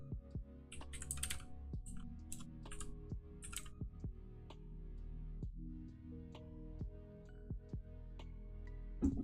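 Typing on a computer keyboard, close and clear, with irregular bursts of key clicks and sharper taps spread through the whole stretch, no talking over it.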